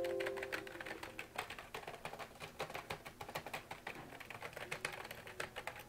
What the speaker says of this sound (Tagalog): Sunod naman ang pagpindot ng keyboard.